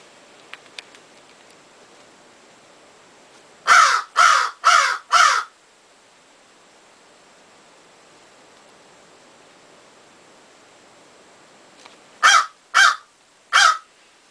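A crow caws four times in a quick series, then three more caws after a long pause, clear and fairly close over a soft steady hiss.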